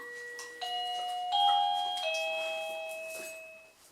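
An electronic doorbell chimes twice in clear sustained tones, the second ring following about a second after the first, with no voices.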